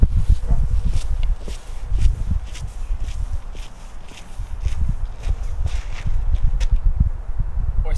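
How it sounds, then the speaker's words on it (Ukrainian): Steady footsteps on ground with leaves and brush, a brisk rhythmic crunching pace close to a trail camera in the dark, continuing for several seconds. "Відходимо на 10 кроків."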